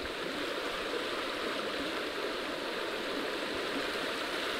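The upper Sysuya river near Sinegorsk flows with a steady, even rush of water, a constant broadband wash with no voices.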